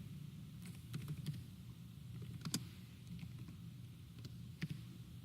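Scattered keystrokes on a computer keyboard as a short search term is entered, a handful of quiet, separate clicks over a steady low hum, with no talking.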